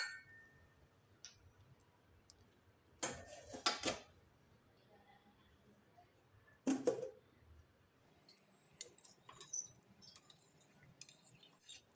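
A pressure cooker of sweet pongal, its pressure released, being opened: a few sharp metallic clanks and clinks of the lid, close and spaced apart by quiet stretches, with lighter scattered clicks toward the end.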